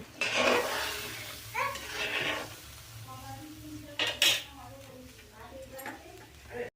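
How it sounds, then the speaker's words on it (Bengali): Utensils scrape and clink against a pot as fish curry with tamarind and water is stirred, several uneven bursts of close clatter over a steady low background hum. "একটু জল দিয়ে দেবো দিয়ে একটু ভালো করে নাড়াচাড়া করে নিতে হবে"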